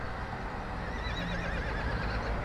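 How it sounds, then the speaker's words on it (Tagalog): A horse neighs and whinnies loudly and continuously at close range, with faint hoof clopping, beside the Lipa–Alaminos bypass road in Batangas. "Yung kabayo nagagalit na."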